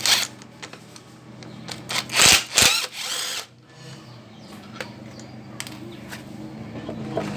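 Power tool, likely an impact wrench, loosening the rear wheel axle nut on a Yamaha Fino scooter during rear axle seal replacement: two loud whirring bursts near the middle, with a low workshop hum and small clanks throughout.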